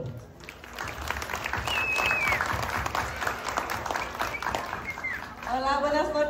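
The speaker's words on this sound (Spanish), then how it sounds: "vamos a recibirla con un caluroso aplauso" Applause and crowd noise at a graduation and eighteenth-birthday party, steady clapping filling the room throughout with cheers and whistles rising over it, and voices chattering underneath.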